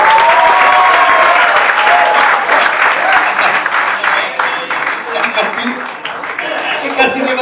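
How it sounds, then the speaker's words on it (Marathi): Loud, sustained applause from a comedy roast audience greeting a guest, a thick roar of clapping that tapers slightly toward the end, with some chuckles and voices mixed in. "जोरदार टाळ्या."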